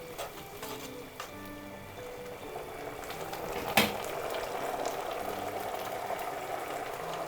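Boiled pasta being tossed with nameko mushrooms in a garlic-butter pan gives a steady, close sizzle and bubbling, with a single sharp clank of utensil on pan partway through.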